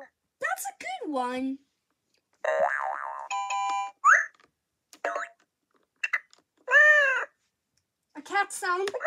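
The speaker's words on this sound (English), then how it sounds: "A cat sound." An electronic toy plays a series of short synthesized sounds and tones, including a bright cartoonish cat meow, separated by silent gaps.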